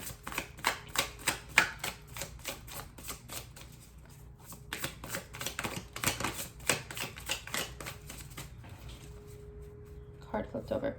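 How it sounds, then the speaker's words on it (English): Tarot cards handled and turned on a tabletop, giving a quick run of crisp, papery clicks and flicks, close and fairly quiet, under a low background hum. "Card flipped over."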